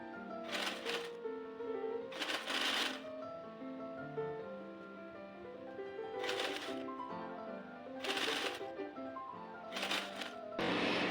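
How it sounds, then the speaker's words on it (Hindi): A sewing machine stitches the sleeve seams of an Anarkali kurti in short, loud bursts of rapid stitching separated by pauses, over a steady tonal background. "ये स्लीव्स से लेते हुए यहाँ से नीचे तक हम यहाँ पर सिलाई कर देंगे"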